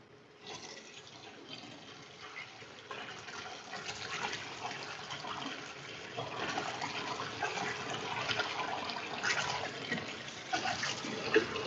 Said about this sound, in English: let's put the noodle into that strainer and I'm going to wash the noodles